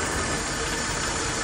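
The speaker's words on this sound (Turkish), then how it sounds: "Motor." An old car engine, a Soviet-era motor fitted to a GAZelle, running continuously, a dense loud close rumbling drone with no talk.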